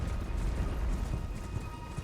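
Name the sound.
horse galloping in Elden Ring, video game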